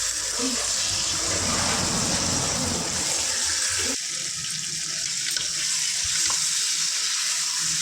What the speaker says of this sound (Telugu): ఇప్పుడు ఇది ఇందులో వేసుకొని చక్కగా ఫ్రై చేసుకుందాం